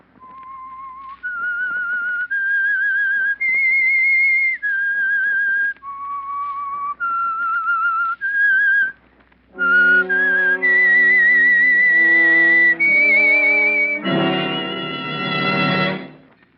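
Whistled theme signal of the mystery radio drama The Whistler, a lone melodic whistle tracing a tune, then joined by a fuller orchestral-sounding swell toward the end; loud and close.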